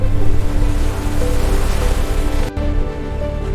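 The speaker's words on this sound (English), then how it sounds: "Swells build rapidly. The vessel rolls 20 degrees with each wave" A storm at sea with large swells around a fishing vessel makes a loud, steady wash of wind and crashing water, with a brief drop near the end.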